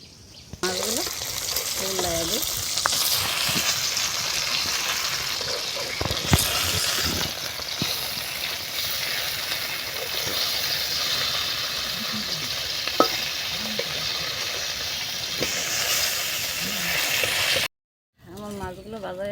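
Chopped cabbage and beans hit hot oil in a home kitchen and fry with a steady, close sizzle and occasional stirring clatter, while a voice talks over it now and then.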